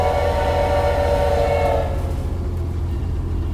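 Train in the horror game Choo-Choo Charles approaching with a loud, sustained horn blast over heavy rumbling, the horn cutting off midway while the deep rolling rumble continues.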